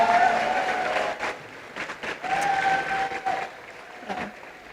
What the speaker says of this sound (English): if you all can give him a round of applause.